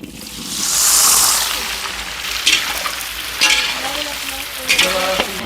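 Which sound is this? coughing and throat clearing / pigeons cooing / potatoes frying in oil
potatoes frying in oil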